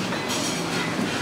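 A train at Taichung high-speed rail station gives a steady, close rumble of rolling wheels and rail noise that holds through the short moment without pause.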